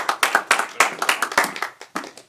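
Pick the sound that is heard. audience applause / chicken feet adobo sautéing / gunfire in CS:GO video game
audience applause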